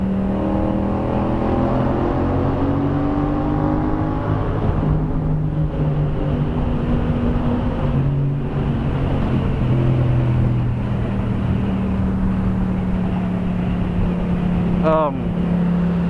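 A Yamaha FZ-07 motorcycle with LED lights roars steadily through a tunnel, engine droning loudly and echoing, with a sweeping rev near the end.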